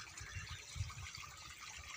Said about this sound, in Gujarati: જો આપણે આ રીતનું પાણી ચાલે છે